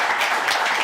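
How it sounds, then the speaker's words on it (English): An audience applauds poets at a reading on politically engaged poetry: a brief, dense wash of clapping from many hands, steady and fairly loud with no individual claps standing out. "Can we give them a round of applause?"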